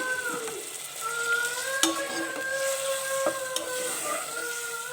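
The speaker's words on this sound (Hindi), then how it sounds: "अब मैं इसी स्टेज पे इसमें चावल ऐड कर रही हूँ, ठीक है। इसको भी हल्का सा फ्राई करना है आपने" Rice and chana dal are stirred and fried in a pot, with close scraping stirs over a constant sizzle and a few sharp clinks of the spoon against the metal.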